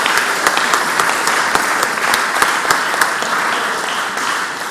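Loud, dense applause fills the Mississippi Senate chamber, a sustained wash of many clapping hands with a few sharper individual claps standing out, no talk over it.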